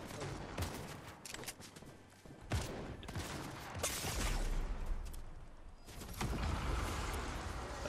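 Bursts of gunfire crackle in a Fortnite match as shots come from behind, with repeated volleys and scattered single reports at close to mid range over a steady game backdrop.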